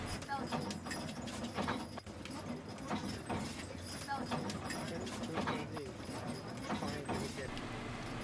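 Belgian draft horses pull a carriage on Mackinac Island, where private cars are banned, their hooves clopping in a steady, moderately close rhythm beneath continuous talking.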